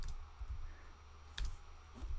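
Space bar spammed to jump in a Scratch platformer game, a handful of quick, faint keyboard clicks at irregular intervals, one sharper tap in the middle, over quiet room tone.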